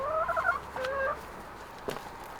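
A racing chicken clucks nearby in a few short, bright bursts, then a soft thump follows in a quiet space.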